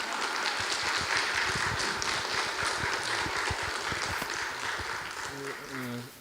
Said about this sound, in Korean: 확실하게 박수 쳐주세요.